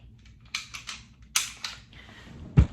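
A Springfield XD pistol being cleared by hand, with a close series of sharp metallic clicks and a slide racking, ending in a heavier snap.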